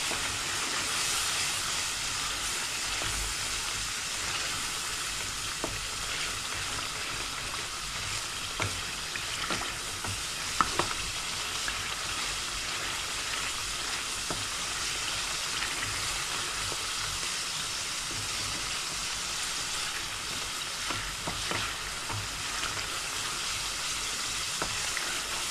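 Spices (chili, coriander and cumin) fry in hot oil for a kakia fish curry, giving a steady close sizzle with occasional pops and stirring scrapes throughout.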